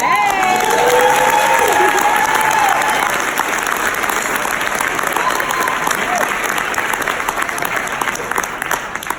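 A large audience applauds at a school gala in Seattle, thick continuous clapping with a few cheers and voices mixed in, loud at first and slowly thinning toward the end.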